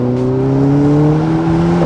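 A Ferrari Portofino M's 3.9-litre V8 hums loudly up close with a steady, slowly rising pitch, like a smooth rev, ending with a brief bump.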